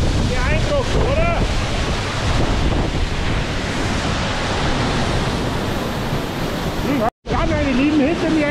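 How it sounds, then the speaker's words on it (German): A cascading waterfall in the Black Forest roars as a loud, continuous broadband rush, buffeted by wind on the microphone, with someone talking briefly at the start and end. "hinter mir ist jetzt der zweite Wasserfall"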